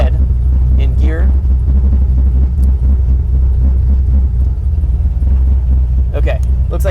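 An LS-swapped Chevy Nova with a big-cam, naturally aspirated V8 runs with a loud, steady, deep rumble close by, and people talk briefly over it.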